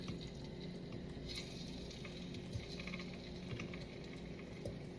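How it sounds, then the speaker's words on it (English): Faint, steady sizzling of potatoes frying in hot oil in a wok, a soft continuous crackle with occasional stirring. "We're gonna start adding these potatoes."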